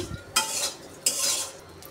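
Dried loitta fish being stirred and fried in a pan, two sharp scraping clinks of a utensil against the pan at close range with faint sizzling between, no talk.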